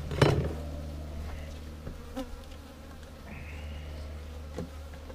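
Honeybees from a strong overwintered colony drone steadily near the hive, a low continuous buzz with a few close knocks and handling sounds, no talking.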